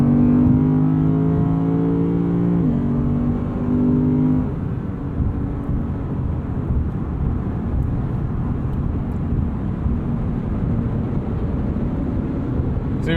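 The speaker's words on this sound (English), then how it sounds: "So you hear how quickly this transmission is downshifting now?" A 2020 Lexus RC F slows from highway speed as its transmission downshifts quickly, the engine note stepping up in pitch once or twice before settling into a loud, steady drone of engine and road noise.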